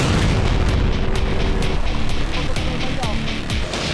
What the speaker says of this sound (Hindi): 2 ड्रोन सीधे जहाज से आकर टकराए, जिसके बाद जबरदस्त धमाका देखा गया।